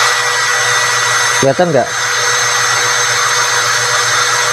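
A Kyoal cordless drill spins at low speed, giving a steady, loud, even whine throughout, briefly interrupted by a short spoken question.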